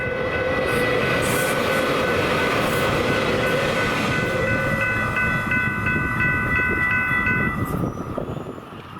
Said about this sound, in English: we see two different RTD commuter trains flying by